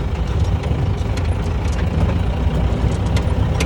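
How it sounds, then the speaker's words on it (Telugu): A vehicle engine runs after a Sundar Carbon Antidote Plus carbon cleaner treatment. A close, steady, low idling rumble continues without a break. "ఇంజన్ జెన్యున్ గా సౌండ్ వస్తుంది."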